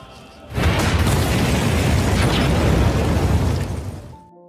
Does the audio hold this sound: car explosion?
yes